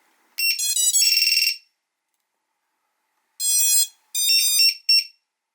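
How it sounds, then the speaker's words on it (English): Lost model alarm buzzer on an Eachine Wizard X220HV drone, shrill electronic beeping tones sounding in a burst, then silence, then several more short bursts, very loud and close with no talk. "So you're going to hear a very loud buzz here when I plug it in."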